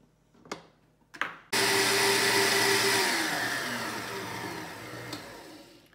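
A hand mixer whips egg whites and sugar into a foamy meringue for a cheesecake, starting after a few brief clicks and knocks and then running loud and steady with a constant motor whine that slowly fades a little.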